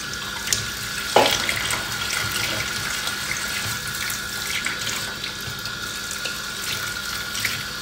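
Tap water runs steadily into a kitchen sink while a duck is turned and washed, a continuous close splashing rush with a brief knock near the start.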